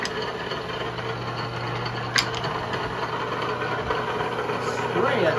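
A knee mill runs steadily while surfacing blocks and heads, producing a constant mechanical hum and whine with a sharp clank partway through.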